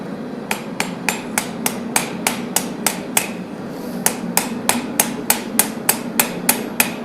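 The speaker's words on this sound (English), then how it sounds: "if you hammer in your bevels with a light hammer" A light hammer strikes the bevels of a blade during forging: about twenty crisp, ringing metallic blows in a steady rhythm with a short pause midway, loud and close over a low room hum.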